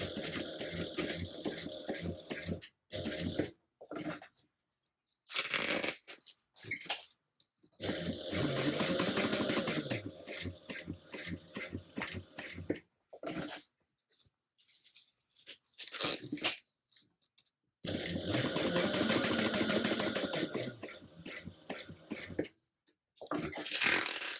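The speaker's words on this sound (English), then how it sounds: "we're going to stitch 1/8 of an inch from the edge" A sewing machine stitches the mesh pocket of a tote bag 1/8 inch from the edge, running in several loud, rapid bursts of a few seconds each, with quiet pauses and small handling sounds in between.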